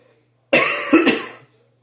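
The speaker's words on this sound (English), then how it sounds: "sorry about the coughing" One harsh, close cough from a person with a sore throat, with a brief rasping break in the middle, then quiet.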